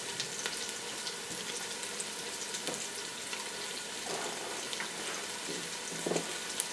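Cabbage hitting a hot pan for a casserole gives a loud, steady frying sizzle that fills the whole stretch, with faint stirring clicks near the end.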